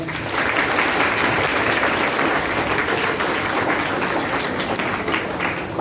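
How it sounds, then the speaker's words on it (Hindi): Sustained, loud applause from an audience at a parents' association talk show, a dense even roar of clapping lasting several seconds without a break. "एक बार जोरदार तालियां।"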